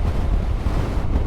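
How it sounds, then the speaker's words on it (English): Strong wind buffets the microphone outdoors on a wet, windy day in Yorkshire, a dense low rumble that fills the whole short moment without any talk. "from a very wet and windy Yorkshire"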